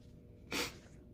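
A person sniffles once, a short, breathy nasal intake at close range, standing alone against a quiet indoor background.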